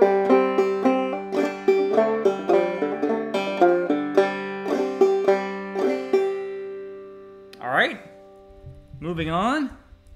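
Clawhammer banjo playing the A part of the old-time tune Cold Frosty Morn, a steady run of bright plucked notes and brushes for about seven seconds, then someone speaks briefly.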